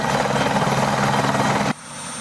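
A helicopter touches down at a high school homecoming football game in Malvern, its loud, close rotor thrum and whine pulsing steadily, then dropping suddenly to a quieter hum.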